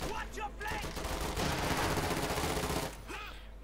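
Machine gun fire from an MG34 in Company of Heroes 2, a dense crackle of bursts and impacts filling the clip amid battle noise, with a faint voice underneath.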